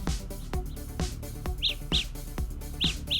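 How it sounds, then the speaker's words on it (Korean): Repeated bird-chirp alert tones from a pair of Samsung Galaxy Buds earbuds in find mode, sounding in short paired bursts that grow louder over a steady rhythmic background beat. "새소리가 나네요. 이어버드 양쪽에서 소리가 납니다."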